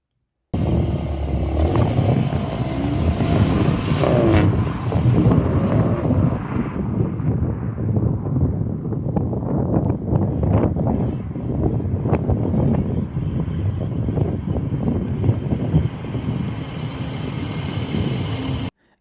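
A facelifted VW Golf R MK8.5 Black Edition drives with its engine and exhaust droning steadily under heavy wind rush, a loud continuous roar that swells and eases slightly across the run, with no talking.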